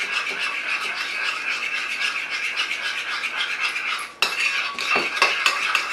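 Curry chicken ingredients being mixed together in a bowl, with steady close scraping and clinking of a utensil against the dish that drops out briefly and then resumes with a few sharper knocks.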